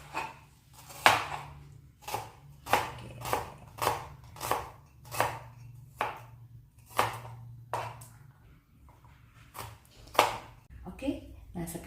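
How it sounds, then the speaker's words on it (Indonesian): A knife slicing shallots thinly on a cutting board, a steady run of crisp, close chops at a brisk, even rhythm, with a low kitchen hum underneath. "kita akan potong-potong bawangnya, bawang merahnya, potong ini aja ya"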